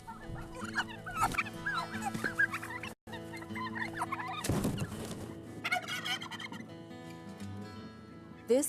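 Bourbon Red heritage turkeys, a Kentucky breed, gobble repeatedly on a farm, with loud overlapping warbling calls from the flock and clucks mixed in and no voices.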